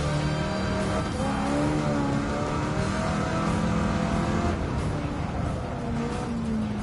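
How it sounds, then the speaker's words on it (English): Race car engine in Gran Turismo 7 roars continuously and loudly, its pitch rising and falling as the car accelerates and shifts, with brief tire noise. "This car is hard to bloody control."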